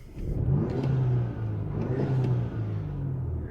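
A 2018 Audi A5 Sportback fitted with a 034 Motorsports intake revs from inside the cabin with the windows up, its steady mid-pitched engine drone rising and falling in a few swells and holding loud throughout, with no talk.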